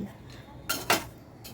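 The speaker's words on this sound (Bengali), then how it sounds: "সব কিছু ভালো করে মিশিয়ে নিচ্ছি।" A spoon scraping and clinking against a wok while stirring a mixture cooked in ghee, two or three quick metallic scrapes and a knock against quiet kitchen background.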